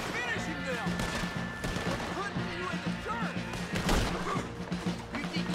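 Booming cannon fire in Red Dead Redemption 2, with heavy thuds and crashing impacts amid dense game noise and ongoing male speech over the top.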